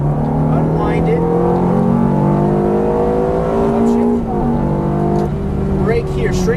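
A Ferrari F430 F1 pulls hard out of a corner on a race track, its engine note climbing in a loud, sustained rising drone heard from inside the cabin, with a brief dip partway through and a driving instructor talking over it.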